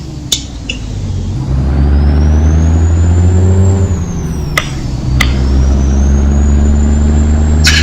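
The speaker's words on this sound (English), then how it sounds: "if you hear me wind the engine out for apparently no reason" Truck engine in American Truck Simulator revving and winding out through gear changes, a loud, close drone whose pitch climbs, dips and climbs again, with sharp clicks and brief hissing bursts along the way and no talking.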